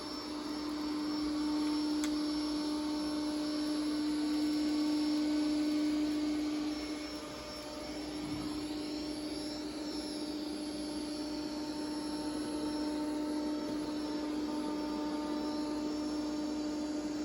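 Bissell Spinwave robot vacuum and mop runs with a continuous whirring motor drone and a steady high whine, dipping slightly in loudness partway through before holding level, close by with no talking.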